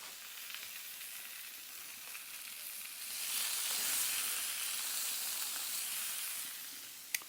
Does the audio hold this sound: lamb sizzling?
yes